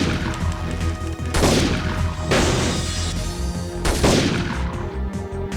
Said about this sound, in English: I guess that explosion messed him up